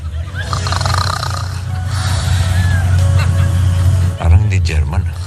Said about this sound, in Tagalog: Hilik nga.